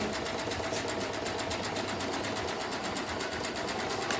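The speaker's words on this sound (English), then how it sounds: "now I'm gonna speed up and let this kind of sew itself here" A Janome sewing machine runs steadily at speed while stitching a clothesline coaster, a continuous fast mechanical whir and rapid needle chatter with no pauses, close and alone.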